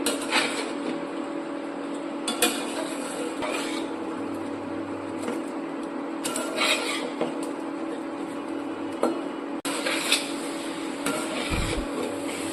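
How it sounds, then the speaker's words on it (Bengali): Mixed vegetables and fried paneer with ketchup are stirred in a pan, giving soft scraping and clinking of a spatula against metal at irregular intervals, moderately quiet under a steady background hum. "সব সবজিটা একবার নাড়াচাড়া করে নিতে হবে।"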